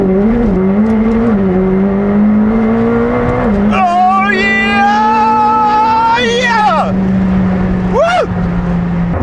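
McLaren 765LT under launch control: a loud engine note climbing steadily through the gears, with a sharp high-pitched surge midway and a brief rising whine near the end, close and dominant throughout.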